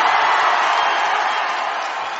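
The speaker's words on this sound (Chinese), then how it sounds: "先给你一个欢呼声好了" A cheering sound effect played during a livestream: a brief, loud, dense roar of crowd cheering and whooping that holds steady for about two seconds, with no talking over it.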